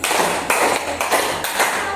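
Hand claps in a classroom counting game strike in close, sharp bursts with a roughly even rhythm, loud and nearly alone.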